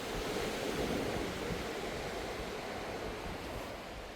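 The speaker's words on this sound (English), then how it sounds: "this is kind of a secluded beach. It's not busy. Yeah, this is a nice and quiet beach." Waves wash steadily onto a quiet, secluded beach north of Cha Am in Phetchaburi, Thailand, a continuous broadband surf roar with light wind, moderately loud and unbroken, with no voices.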